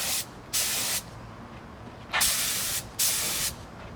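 Rust-Oleum spray paint hissing from an aerosol can onto a lamp, four separate bursts of about half a second each with short quiet gaps between them, close and clear with no voices.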